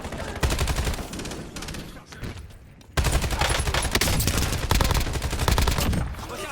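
Automatic gunfire in the Warzone shooter video game, loud sustained rapid bursts with a short lull before another long volley, a faint voice now and then underneath.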